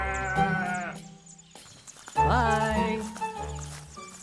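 Sheep drinking at a well bleat in several wavering calls, loud and close, with a short pause between the first call and a second burst of overlapping bleats.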